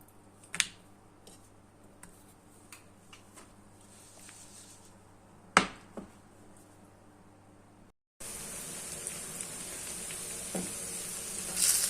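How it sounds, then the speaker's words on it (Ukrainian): Quiet taps and clicks of kitchen handling, then a steady sizzle of butter and a hard green banana frying in a pan starts and continues. "Так, щось дуже швидко смажиться."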